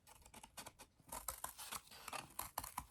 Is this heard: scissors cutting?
yes